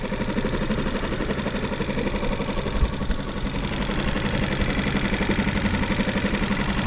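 A Suzuki 6 horsepower outboard motor mounted on a kayak idles close by with a steady, even, buzzing putter that stays at the same level throughout, with no speech over it.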